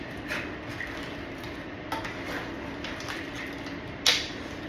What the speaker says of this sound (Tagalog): So, haluin na natin.